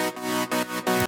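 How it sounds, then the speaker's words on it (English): A lush synth chord patch built from detuned saw waves, widened with a chorus-style effect, plays three sustained chord stabs in quick succession, bright and full, with no voice. "So super simple, but just gives a very nice lush chord sound."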